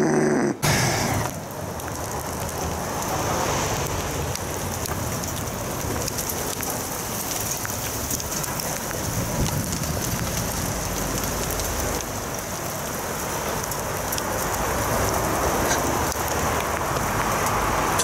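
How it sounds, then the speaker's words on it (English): Styrofoam-like snow pellets fall outdoors and bounce off a camera, making a dense, steady patter like heavy rain that continues throughout at close range. "it was gonna start raining styrofoam"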